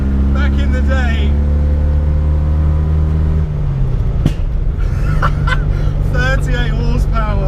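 Loud, close drone of a 1972 Abarth 695's small engine while driving, a steady low harmonic hum that drops in pitch partway through as the gear changes, with a person talking over it.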